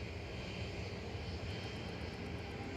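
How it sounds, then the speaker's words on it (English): EasyJet Airbus A320 departing runway 23 left at Manchester Airport, a faint, steady distant roar of jet engines heard from afar for a few seconds, with no talk. "So next to depart on 23 left is EasyJet. Flight 2201 to Berlin."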